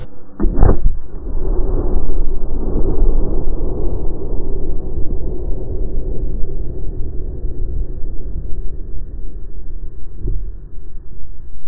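A calcium carbide teddy bear cannon fires on an acetylene and air mix: one sharp, loud bang, followed by a long rolling rumble that slowly fades.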